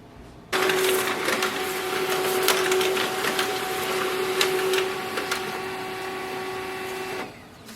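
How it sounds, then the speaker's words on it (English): A Canon ImageCLASS LBP122dw laser printer runs off a test page, a steady mechanical whir and rattle with small clicks that starts abruptly, holds for several seconds close by, then stops. "So printer just printed the Windows printer test page."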